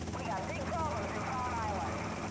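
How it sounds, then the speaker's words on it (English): Helicopter in the video game GTA Vice City flying over the city, a steady continuous engine and rotor drone running throughout, with someone talking over it. "Might get trickier here trying to fly the helicopter in the city."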